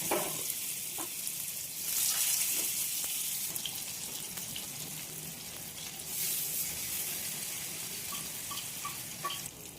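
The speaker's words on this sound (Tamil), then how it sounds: "எனக்கு ஷாலோ ஃப்ரை பண்ணுறதுனால நான் ஷாலோ ஃப்ரை பண்ணிக்கிறேன்" Marinated food shallow frying in hot oil in a home kitchen, giving a loud, steady close-up sizzle and crackle throughout, with a few light utensil clinks and stirring sounds.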